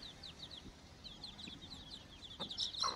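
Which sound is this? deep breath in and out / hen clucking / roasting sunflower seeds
hen clucking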